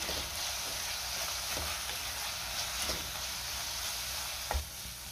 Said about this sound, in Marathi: आता हे सगळं आपण व्यवस्थित मिक्स करून घेऊया